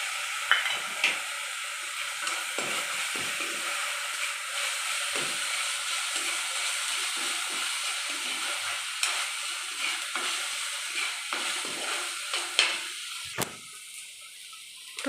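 Onions frying in a pan, a steady close sizzle running throughout with soft scraping stirs breaking in now and then, ahead of ginger-garlic paste going in.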